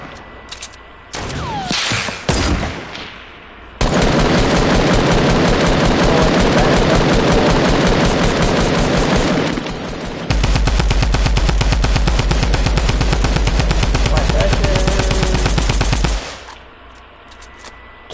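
Rapid automatic gunfire from a Fortnite match, loud, sustained bursts running several seconds each with a short break between, plus a few sharp single shots at the start.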